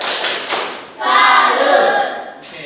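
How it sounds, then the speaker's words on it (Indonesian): Classroom of pupils clapping a salute rhythm for a fellow student, a burst of hand claps and taps that swells into a dense, loud patter of many hands before tapering off. "Kita tepuk salut dulu buat adik Ona."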